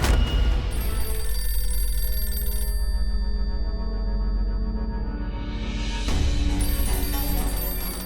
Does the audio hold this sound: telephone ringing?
yes